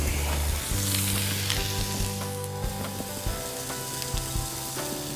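Tuna steaks sizzle loudly and steadily on a flat top griddle set over a firepit, a continuous frying hiss with small pops and no talking.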